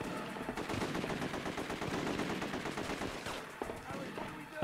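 Rapid bursts of automatic gunfire in The Getaway video game, loud and dense for several seconds before thinning out to a few scattered shots near the end.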